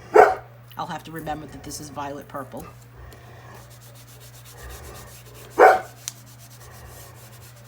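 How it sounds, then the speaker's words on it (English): A dog barks in the background during a crayon coloring session, with one sharp bark near the start and another louder one near the middle, both heard under a woman's steady nearby speech. "That's my dog barking in the background"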